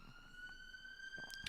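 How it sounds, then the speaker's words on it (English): An ambulance siren on a street sounds as a faint, distant sustained wail with a steady tone that rises slightly, under low background noise. "There's a lot of ambulances coming down the street in the minute."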